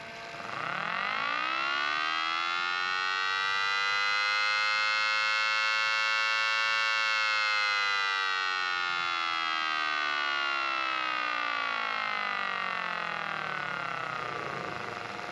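A mini Thunderbolt siren running at its medium second speed, a loud steady wail that rises over the first second, holds a sustained harmonic-rich tone, then slowly winds down in pitch toward the end.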